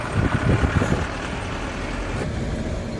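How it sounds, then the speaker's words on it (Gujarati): Low rumbling noise with a heavy rhythmic clatter at first, fading to a steady broadband roar, like a train rolling past close by. "ટ્રેન ગઈ પણ તમને બતાવી ન હોય કે ટ્રેન જાતી હતી"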